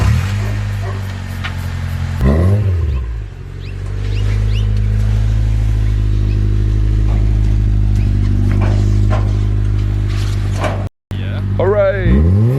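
A Honda Civic EK idles steadily after two years of sitting, freshly started on a new battery, its low engine drone running throughout with a couple of brief swells, while people talk over it.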